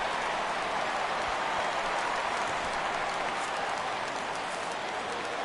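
Stadium crowd noise from a baseball video game, a steady, dense roar of cheering and applause that holds evenly throughout, loud and broad like a packed ballpark rising for a full-count pitch.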